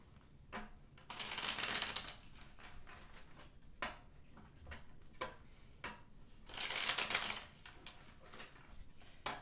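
Tarot cards being shuffled by hand, two louder riffling bursts standing out among softer taps and slides of the deck, close and quiet with no talking.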